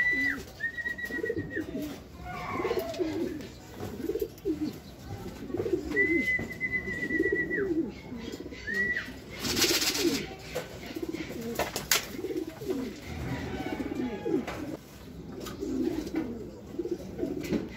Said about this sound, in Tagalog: So ito mga kalapatids, may isa na tayong ibon, si Alphonsen.